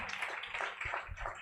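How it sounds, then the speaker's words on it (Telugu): A church congregation claps in praise of the Lord, giving a steady wash of many hands clapping together in a hall, fairly loud and continuous with no clear individual beats. "గట్టిగా చప్పట్లు కొట్టి ప్రభువుని మహింపడదాం."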